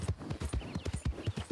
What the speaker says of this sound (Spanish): Sí, el caballo me asustó.